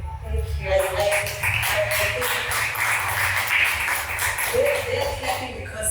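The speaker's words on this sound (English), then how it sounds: "They're clapping because I know they share the same sentiments." Audience clapping at a women's vision board retreat, a steady patter of many hands in a room, with a voice speaking over it.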